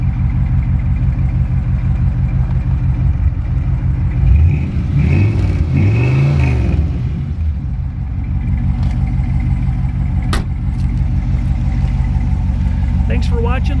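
A 1960 Ford Thunderbird V8 runs steadily near at hand, a deep rumbling idle that swells into a brief rev around the middle before settling back, with faint voices underneath.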